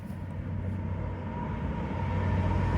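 A train rumbles along the Teignmouth seawall, a low droning roll with a steady hum that grows slightly louder as it passes nearby, with no voices.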